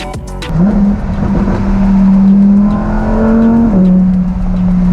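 A Lamborghini Huracan Evo accelerates up a freeway on-ramp, its engine note climbing through a loud sustained pull with a brief shift near the end, heard from inside the car.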